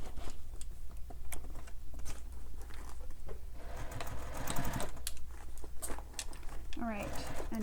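A sewing machine stitches around a fabric bag in short, fast bursts of rapid mechanical patter, close and moderately quiet, with pauses between runs.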